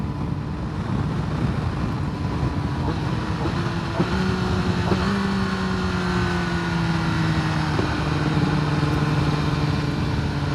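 A 2021 Kawasaki ZX-10R motorcycle fitted with an aftermarket exhaust runs under steady riding, with a continuous engine drone mixed with wind rush and a few audible gear shifts that change the engine tone.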